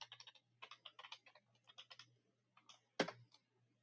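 Someone types a short simple lowercase password with numbers on a computer keyboard, a quick burst of crisp, close key clicks in uneven clusters ending with a firmer tap like the Enter key.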